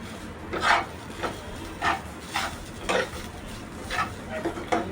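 Repeated scraping strokes of a spoon against a pan, mixing roasted dry coconut and coriander, about eight rhythmic stirs, close and clear with no talking.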